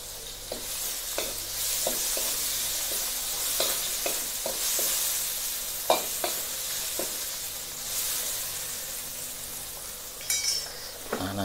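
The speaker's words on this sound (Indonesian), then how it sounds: "Kita aduk-aduk nasinya" Rice fries in a pan for nasi goreng while being stirred, a continuous close sizzle broken by periodic scrapes and clinks of a spatula against the pan.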